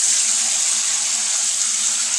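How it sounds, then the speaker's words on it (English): Hot water runs steadily from a sink tap into a 5-gallon bucket, a constant close hissing rush of filling water that holds for the whole stretch, with nothing else audible. "The next step is going to be fill your 5-gallon bucket"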